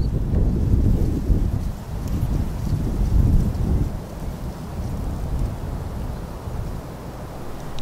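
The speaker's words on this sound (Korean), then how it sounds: "습기를 머금은 바람이 불면" Moist wind sweeps over coastal reed beds, a loud, gusty, low rumbling roar that swells and eases across several seconds, buffeting the microphone.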